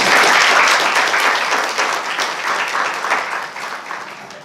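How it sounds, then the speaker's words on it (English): Audience at a state education board meeting gives a round of applause, dense clapping that starts full and gradually thins and fades over a few seconds. "Please go ahead and give them a round of applause for this"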